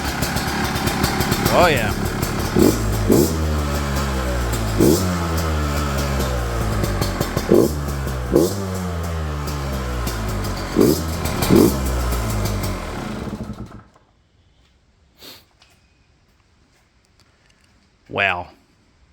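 A Beta 200RR two-stroke motorcycle engine starts up after a top end rebuild and revs loudly in repeated rising bursts before cutting out. A brief voice reacts over the engine, and a few faint noises follow in the quiet.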